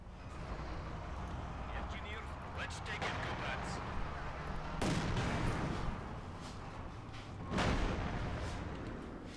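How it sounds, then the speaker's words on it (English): Artillery fire in the video game Company of Heroes 2 on the Soviet side: a rumbling battlefield din broken by two heavy blasts several seconds apart, with a voice talking over it. "No, more artillery."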